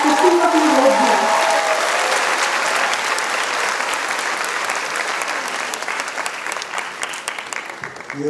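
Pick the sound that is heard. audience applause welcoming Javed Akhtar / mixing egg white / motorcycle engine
audience applause welcoming Javed Akhtar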